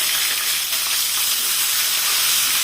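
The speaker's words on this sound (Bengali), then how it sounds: "ভালোভাবে ভেজে নিই" Sliced onion frying in hot oil with whole cloves, cinnamon sticks and black peppercorns for a prawn malai curry. A loud, steady, close sizzle and hiss runs throughout with no talking.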